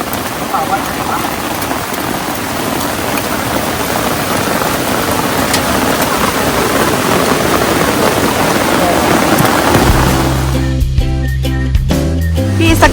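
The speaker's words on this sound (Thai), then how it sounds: "ฝนตก ปรอยปรอย" Steady rain patters at a campsite in Saraburi at night, a dense constant hiss close by, with a low engine-like drone joining near the end.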